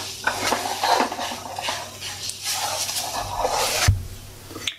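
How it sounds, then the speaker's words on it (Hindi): A spoon scrapes and stirs besan roasting in ghee in a pan over a medium flame, with soft, steady scraping strokes, light clinks against the pan and a faint sizzle throughout. "अब हम इसे कंटिन्यू चलाते हुए सेकेंगे।"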